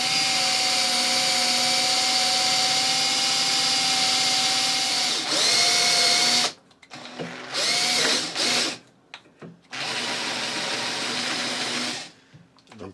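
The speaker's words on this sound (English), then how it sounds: "all I do is drill a hole, then turn it round to the next jaw, drill the next hole" A power drill runs steadily, then stops and restarts in several bursts of whirring, close and loud, with short pauses between holes drilled in the jaws of a lathe headstock handle part.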